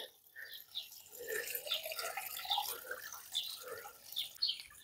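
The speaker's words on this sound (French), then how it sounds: "Et je rajoute un petit coup d'arrosage." Water poured from a watering can onto newly planted sage and mint in a garden herb bed, a soft continuous splashing and trickling, with a person speaking quietly at times.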